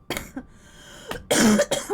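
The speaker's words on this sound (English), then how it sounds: "So much air it made me cough." A few sharp, close coughs burst out in uneven succession, separated by short quiet gaps, the last ones loudest and harshest, with no other voices.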